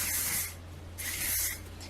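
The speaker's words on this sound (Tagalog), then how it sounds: "Tapos i-spray nyo lang ulit." Hairspray hisses from an aerosol can onto medium-length styled hair in two steady bursts, the second following a brief pause, close and fairly loud.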